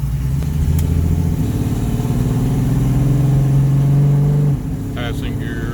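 A Ford Mustang drives out on a main road, its engine humming and rising in pitch under load before easing off near the end, loud and close from inside the car.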